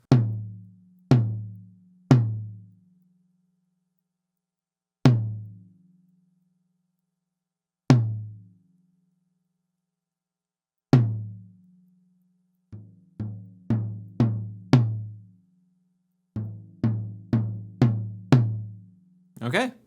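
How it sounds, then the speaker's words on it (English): A drum tom mounted in its usual stand is struck repeatedly, each hit ringing with a low boomy tone that decays over about a second; the strikes start sparse and spaced, then come in quicker clusters, loud and close with no talking. "the tom right now, just sitting in the stand like it always does, sounds like this"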